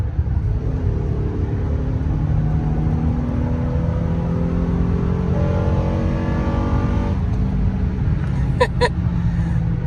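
A Honda Ridgeline or Pilot 3.5-litre V6 with a modified intake revs hard under full throttle, its pitch climbing steadily and then dropping with a downshift before rising again, loud and continuous.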